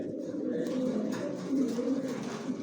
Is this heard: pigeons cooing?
yes